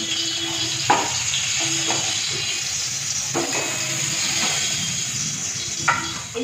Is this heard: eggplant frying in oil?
yes